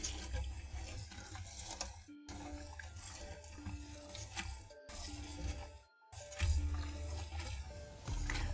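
Tap water runs steadily into a pot to rinse raw shrimp for a caldo de camarón shrimp stew, a continuous close splashing stream with brief pauses where the flow stops.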